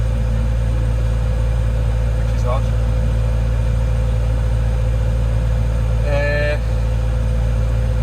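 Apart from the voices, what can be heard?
excavator engine running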